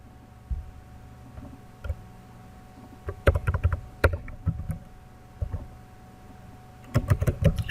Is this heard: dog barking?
no